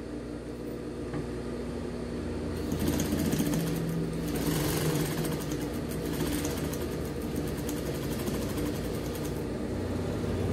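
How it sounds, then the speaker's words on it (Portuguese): A sewing machine runs a seam along the rounded lower edge of a kimono-style bodysuit, starting after a quiet moment and then humming in a steady, fast, close stitching rhythm without speech. "a gente vai passar uma costura aqui embaixo, na parte arredondada só"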